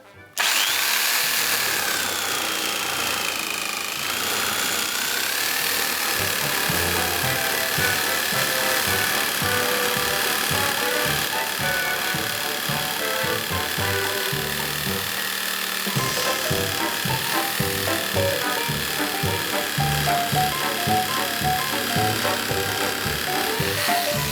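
An electric jigsaw buzzes steadily and loudly, its motor whining with rapid choppy cutting strokes throughout, up close, with no talking.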